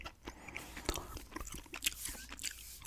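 Close, soft ASMR mouth sounds of gum chewing, with moist smacks and small crunchy clicks repeating irregularly at low volume.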